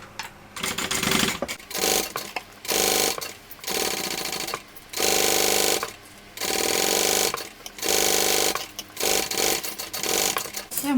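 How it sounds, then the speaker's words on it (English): A sewing machine stitching a tote bag lining runs in loud bursts of rapid whirring and clatter, stopping and starting about seven times with short pauses between runs, close up and without talk. "we're sewing this on with the seam allowance given in the pattern"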